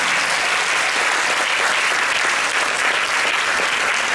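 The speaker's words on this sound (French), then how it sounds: "Applaudissements." Dense, sustained audience applause at an opening ceremony in Monaco, a loud, even wash of many hands clapping with no pauses.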